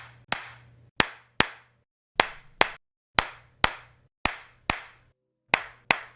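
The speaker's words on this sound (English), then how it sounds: "Let's listen to the claps." Single sharp hand claps recorded through different microphones, each followed by a short decaying tail, arriving close and loud in a loose rhythm, often in pairs, with faint low hum between some of them.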